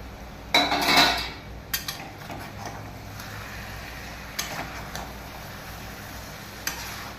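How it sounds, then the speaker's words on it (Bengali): A metal lid comes off a pot of cooking chicken with a loud close clatter, followed by a few lighter clinks and a faint simmer underneath. "ঢাকাটা খুলে"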